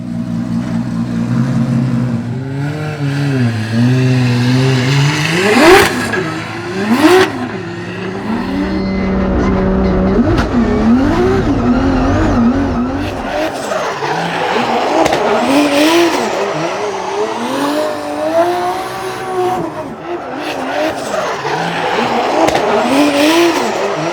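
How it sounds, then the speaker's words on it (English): A streetable backup drift car at a Formula Drift skills battle, its engine revving hard through rising and falling pitch sweeps as the tires squeal and skid, loud and continuous throughout with no talking. "So this is like a streetable car that we brought as a backup car."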